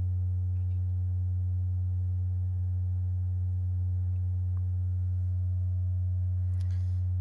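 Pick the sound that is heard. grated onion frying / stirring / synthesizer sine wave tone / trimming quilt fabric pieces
synthesizer sine wave tone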